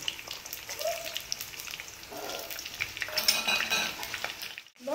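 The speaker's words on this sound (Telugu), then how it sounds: "ఇందులో మనము ఉల్లిపాయలు కూడా వేసుకుందాము" Onions frying in hot oil for a cucumber mutton curry, giving a steady, close, dense sizzle with occasional stirring scrapes that fades out near the end.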